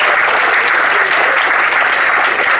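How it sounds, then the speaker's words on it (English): An audience at a King of the Mountain race prize giving in Kawerau breaks into loud, dense applause, a continuous wash of many hands clapping with no let-up. "I think he's worth a round of applause"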